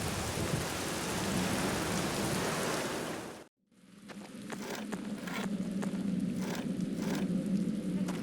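Steady, heavy rain falls in the video game The Black Mirror, with a dense wash of noise that cuts out briefly, then returns with scattered crackles like distant thunder.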